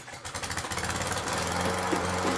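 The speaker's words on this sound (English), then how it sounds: "that's the lawnmower" A lawn mower engine revs up from a pulsing chug into a steady, droning run nearby, loud and continuous.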